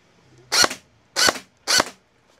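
Three sharp, close shots from a Dekai SCAR-L gel blaster toy gun, spaced roughly half a second apart, each a bright crack with a brief mechanical tail, in an otherwise quiet room.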